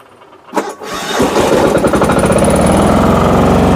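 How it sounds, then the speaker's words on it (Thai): A small excavator's diesel engine cranks and catches after a brief clatter, then settles into a loud, rapid, rattling idle close by. "เป็นเครื่องยนต์ดีเซลนะครับ"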